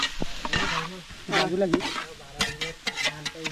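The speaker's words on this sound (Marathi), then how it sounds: "टाकले आता कांदा चांगला भाजू देणार." Onion fries in a pan for chicken biryani at a home party, stirred with a spoon in scraping, rhythmic strokes over a steady loud sizzle, while a voice speaks briefly nearby.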